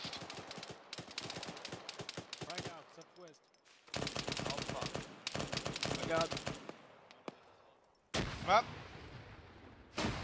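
Heavy machine gun fire in ARMA 3 comes in long rapid bursts, each a dense string of sharp shots, broken by short gaps and a final loud blast, with voices speaking over the shooting.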